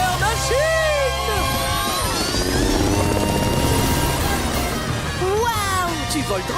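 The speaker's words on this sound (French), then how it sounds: "Je suis un hélicoptère de la police!" Whirring of a cartoon police helicopter in flight from the Blaze and the Monster Machines series, steady and loud, mixed with music and animated voices talking over it.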